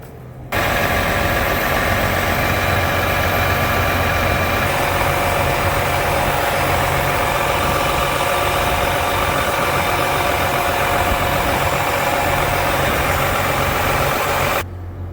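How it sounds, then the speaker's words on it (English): A John Deere 7290R tractor engine runs at a steady idle after repairs, a loud, constant diesel drone with a faint knocking texture that starts abruptly and cuts off near the end. "I just wanted to run it a little bit, make sure there are no other leaks."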